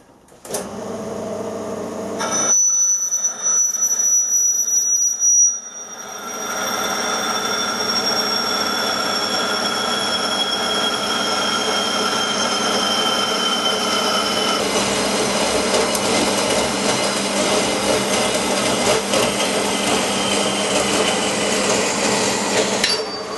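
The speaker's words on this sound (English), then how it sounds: "I'll cut that through on the bandsaw and see what sort of penetration" A bandsaw cuts through a MIG weld test piece, first a short burst of machine noise, then a brief pause before a long, steady, close grinding whine of the blade through metal.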